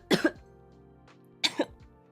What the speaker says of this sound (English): every time I sing it just like makes my cough feel worse